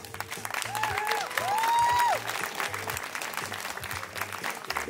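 Audience at the Summer Salsa Fest 2025 applauding loudly and continuously, a dense wash of many hands clapping, with a brief whistle or cheer rising over the crowd partway through.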